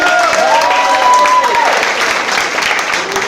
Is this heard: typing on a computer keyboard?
no